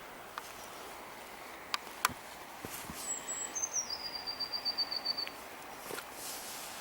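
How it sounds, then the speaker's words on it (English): Birds sing along Lady Mary's Walk by the River Turret, a high trilling phrase of rapid repeated notes stepping down in pitch, with a few sharp chirps before it, fairly faint over quiet woodland air. "Listen to the birds, Jenny."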